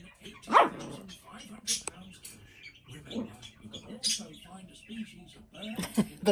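A puppy barks in short, sharp yips scattered through the clip, with a woman scolding it in between and quieter squeaks and rustling around.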